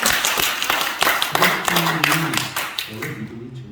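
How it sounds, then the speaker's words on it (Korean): A church congregation claps in a burst of sharp, quick hand claps that fade out as a voice starts talking over the last of them. "박수 쳐주고 싶어요."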